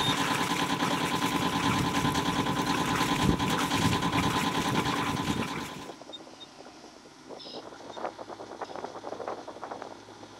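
Small sailboat engine running steadily with a droning hum while a tiller pilot is calibrated; the drone drops abruptly about halfway, leaving quieter mechanical rattling and ticking.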